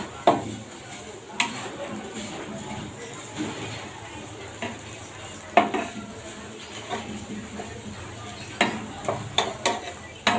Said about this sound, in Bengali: আর একটু বাজা বাজা হোক তারপরে নামিয়ে ফেলবো আমার ভেন্ডি প্রায় সিদ্ধ হয়ে গেছে